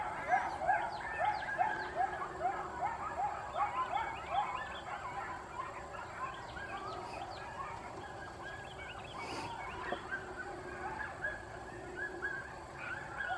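Pack of dogs with pups barking in the woods, a rapid chorus of overlapping yips and barks at a distance, steady and fairly faint, with a couple of brief nearby clatters.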